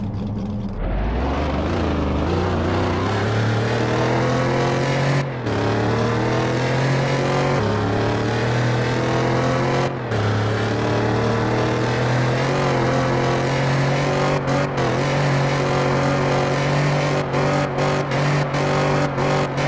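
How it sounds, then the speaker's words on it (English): A Shelby Cobra's engine roars steadily and loudly in a racing video game, climbing through the revs with brief breaks at each gear change as it pulls toward top speed, with no talking. "Now we are running one of my favorite cars in this game, a Shelby Cobra"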